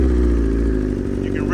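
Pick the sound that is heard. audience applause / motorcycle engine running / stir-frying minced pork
motorcycle engine running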